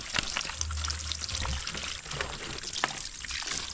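Fetched water is poured out outdoors on a farm, a steady splashing trickle with bright spattering bursts, fairly close and continuous, with a low hum in the background.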